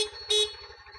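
A short car horn honk, loud and close, over the low rhythmic throb of an idling engine.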